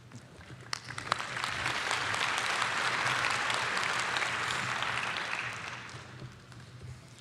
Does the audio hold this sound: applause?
yes